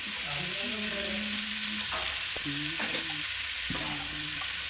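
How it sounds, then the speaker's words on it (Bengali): Colourful winter vegetables are stirred into a spiced masala in a pan, a continuous sizzle and frying hiss with occasional scraping strokes of a ladle, close and steady. "হাতার সাহায্যে একটু জল ঝরিয়ে তুলে ওই মশলার মধ্যে দিয়ে দিচ্ছি।"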